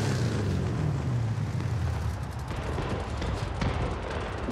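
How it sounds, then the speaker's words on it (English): Fireworks in Forza Horizon 5 boom and rumble continuously in the distance, a dense low roar with scattered crackling bursts over the steady sound of a Plymouth Barracuda Formula S engine. "Looks like they finally gave audio to the fireworks."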